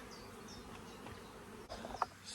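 Honey bees buzz faintly around a hive in a UK bee yard, a thin, continuous hum in quiet outdoor air, with a few brief louder bumps near the end.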